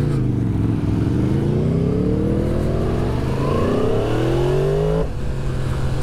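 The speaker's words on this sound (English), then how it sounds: "These are two of the best sounding motorcycles on the market, really." A Yamaha MT-10 and an Aprilia Tuono V4 rev hard, loud and close, their engine notes climbing steadily in pitch through the gears before one drops off near the end.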